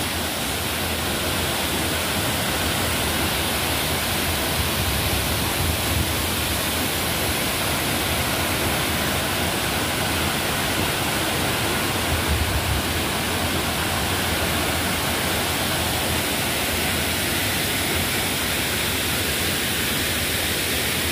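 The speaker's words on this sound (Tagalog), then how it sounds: "Tubo Falls." Tubo Falls pours in a dense, unbroken roar of falling water that stays loud and even throughout, close by, with no voices.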